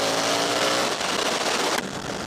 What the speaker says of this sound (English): This is a really nice sounding bike.